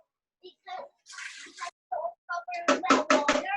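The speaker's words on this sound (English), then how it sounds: "Daddy's gotta pour your potty thing out." Liquid poured out of a child's potty, a run of splashy watery bursts near the end that grow louder and closer, following earlier soft speech from an adult and a young child.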